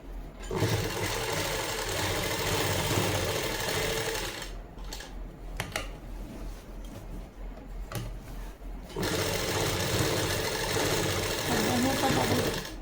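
A sewing machine stitching a Punjabi suit runs in two loud bursts of steady whirring, separated by a quieter pause with handling noises and a voice speaking.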